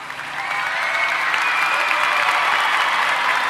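A crowd roars and cheers in a steady, loud wash of voices and applause that swells in over the first half second and holds without a break.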